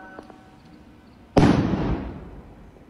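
A bomb blast plays back from a video: one sudden loud boom after near silence, then a rumble that slowly fades out.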